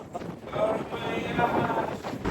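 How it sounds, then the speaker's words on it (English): Wind buffets the microphone in gusty, broadband rushes for a couple of seconds, close and fairly loud, outdoors in Osaka. "really windy."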